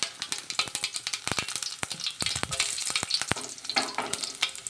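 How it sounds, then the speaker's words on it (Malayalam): Mustard seeds, shallots, curry leaves and dried chillies tempering in hot coconut oil, crackling and spitting in rapid bursts over a sizzle, with stirring, loud and near. "ഞാൻ കടുകിട്ടിട്ട് ചെറിയ ഉള്ളി ഇട്ട് കരിയാപ്പിലയും ഇട്ട് 2 ഉണക്കമുളക് അതും കൂടി ഇട്ട് താളിക്കുക ചെയ്യുന്നത്"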